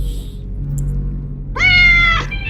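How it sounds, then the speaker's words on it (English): A single drawn-out cat meow sounds in a video game, loud and close, over a low steady rumble with no talking. "Just random meow?"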